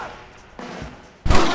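Gunfire erupts in the Western video game Red Dead Redemption on PS3: a loud, sudden burst of shots near the end, following a quieter stretch of low ambient rumble.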